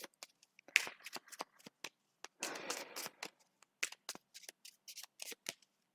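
Tarot cards are shuffled by hand in quick, irregular riffles and slides, a series of crisp, close papery flicks with one longer burst of riffling, and no talking.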